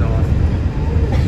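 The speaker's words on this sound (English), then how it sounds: "And the train is back, guys." A Disney monorail arriving on the line between Magic Kingdom and the Contemporary Resort, heard as a loud, steady rumbling hum close by that stays even throughout the brief moment.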